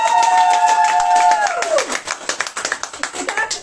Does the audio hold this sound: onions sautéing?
no